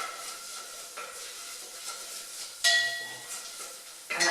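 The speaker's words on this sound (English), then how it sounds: "I can hear my onions beginning to sizzle" Soft crackling sizzle of onions in a pan, fairly quiet and continuous, with a couple of louder scraping bursts as they are stirred.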